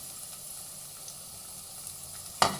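Crushed garlic and carrots browning in a pan give a steady, quiet sizzle, ending in a sharp louder hiss as something hits the hot fat.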